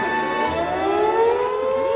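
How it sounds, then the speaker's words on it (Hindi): A steady wailing civil defense siren holds a rising, sustained tone, loud and continuous with no voices over it. "सायरन की आवाज"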